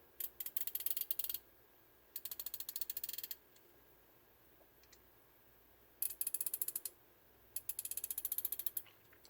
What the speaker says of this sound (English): Very sharp detent from click to click, almost no wobble in there.